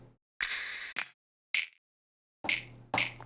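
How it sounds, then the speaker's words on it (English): Finger snaps from a sampled snap in Maschine with built-in reverb: several crisp, loud snaps with short reverb tails, starting as separate hits and ending in a quick pair. "Or you can always go to a snap that already have a reverb built in."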